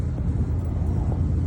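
Low, steady road rumble from inside a car driving to the airport in the Bay Area, a continuous muffled engine and tyre drone with no distinct events.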